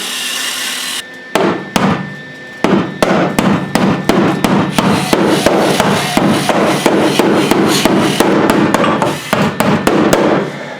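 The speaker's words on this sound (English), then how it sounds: "I'm just gonna hammer it in." Steady, loud hammer blows striking metal while fitting subframe connectors to a third-generation car, in a rapid, regular rhythm, dozens of sharp impacts with a few brief pauses.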